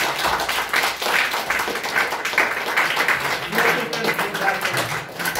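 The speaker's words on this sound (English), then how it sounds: "Give her a big round of applause." Audience applause rings out for a Grade X student after a talent presentation in a classroom: dense, steady clapping that fills the whole stretch at close range without a break.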